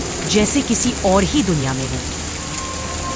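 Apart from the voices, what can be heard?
heavy rain in a storm, horror story sound effect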